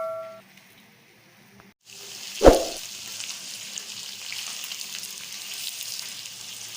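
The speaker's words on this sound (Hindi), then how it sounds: "चिकन जो है मैं कलर चेंज होने तक फ्राई करूंगी।" Chicken pieces drop into hot oil in a pan with a sharp burst of sizzling, which settles into a steady, moderately loud frying hiss that continues alone.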